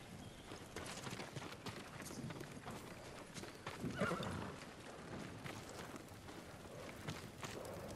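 Samurai horses in the Ghost of Tsushima video game whinny and clop their hooves in a continuous, busy stable soundscape, with a louder neigh near the middle over steady background noise.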